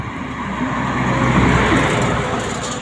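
A truck loaded with stone rumbles at a rock quarry and crushing plant, its engine a steady, loud, close drone that holds for the whole moment.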